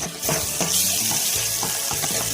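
Onion and tomato sautéing in a pan for a greens sambar, a steady close sizzle with scraping stirs recurring through the short stretch, no voices.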